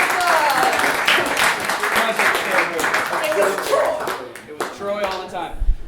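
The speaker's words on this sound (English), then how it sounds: "give them a big round of applause" An audience at an improv comedy show applauds with dense, steady clapping that swells and then fades near the end, while a voice talks over it.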